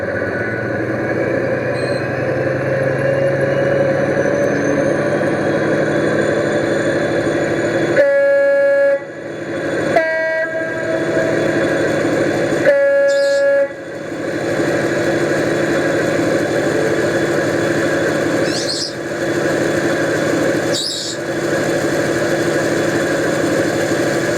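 A model HST diesel engine burbles through speakers inside a model railway train, a steady loud droning hum with tonal horn-like bursts around the middle and a few higher whistles later, no talk.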